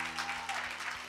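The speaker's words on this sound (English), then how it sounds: "Give the Lord a hand clap." Church congregation hand clapping during a service, a quiet, dense patter of many hands with a faint sustained tone underneath.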